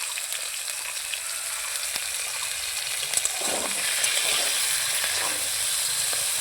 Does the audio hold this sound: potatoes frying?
yes